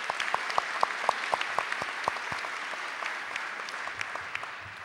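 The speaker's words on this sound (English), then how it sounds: "So I just want to give Karen a round of applause." An audience at Seneca High School's academic awards claps for Karen Davies, with a few sharp, close individual claps standing out over a steady wash of applause that fades slightly toward the end.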